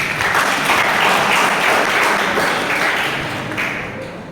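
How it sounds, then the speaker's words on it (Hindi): An audience claps together at a women's empowerment event, a loud, sustained wash of applause that carries evenly throughout and eases slightly near the close. "इनके लिए दोनों के लिए एक ताली"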